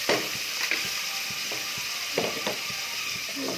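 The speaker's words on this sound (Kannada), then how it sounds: "ಅದಾದ್ಮೇಲೆ ಈರುಳ್ಳಿ ಟೊಮೊಟೊ ಹಾಕ್ಬಿಟ್ಟು ಫಸ್ಟು ಫ್ರೈ ಮಾಡ್ತೀನಿ" Onion and tomato frying in oil in a pan, a steady hiss of sizzling with a few soft scraping clicks from stirring, close by and with no talking.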